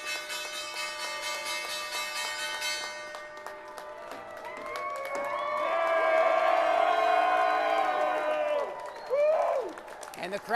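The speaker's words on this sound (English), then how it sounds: "And the crowd here at the big board is fired up, and why not?" A crowd on a stock exchange trading floor cheers, whoops and applauds after the closing bell rings, swelling to a loud peak and then fading, with voices heard in the mix.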